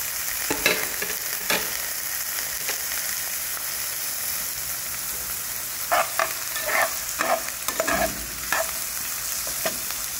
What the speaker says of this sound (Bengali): এক মিনিটের মতন এটাকে সাঁতলে নেব।